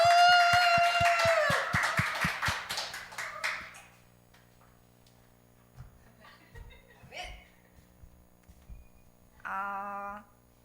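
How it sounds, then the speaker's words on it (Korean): A church congregation welcomes a youth speaker at a forum with rhythmic clapping. The sharp, evenly spaced claps come under a sustained sung or hummed tone, then fade into near silence with scattered small noises and a brief voice at the end. "박수로 환영해 주세요"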